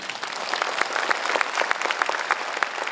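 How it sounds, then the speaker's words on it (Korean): Loud, dense applause from a crowd at a launch ceremony, steady clapping filling the room with no voices over it. "다 같이 힘찬 박수로 다져보겠습니다"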